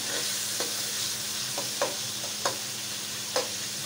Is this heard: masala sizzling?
yes